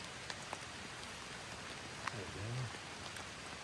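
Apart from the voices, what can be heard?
rain falling while hiking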